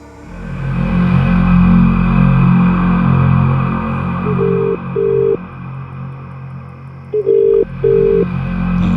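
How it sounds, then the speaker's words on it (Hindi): Telephone keypad tones beep in two quick pairs over a steady low engine-like hum, each tone short and clear. "हिना अभी फोन नहीं उठा रही है यार"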